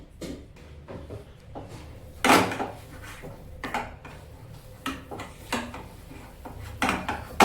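A spoon repeatedly scrapes and knocks against a kadhai while paneer matar cutlet mixture is stirred together, irregular close clatters and thuds with no talking.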